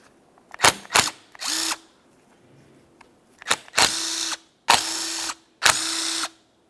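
A cordless power tool zips bolts out of a 2002-2005 Ford Explorer wiper motor assembly, short ratcheting bursts and several sustained whirring runs with pauses between, close and loud.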